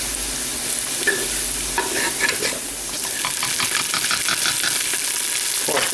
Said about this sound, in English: it's not taking long to cook the onions